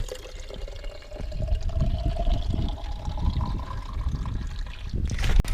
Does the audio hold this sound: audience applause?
no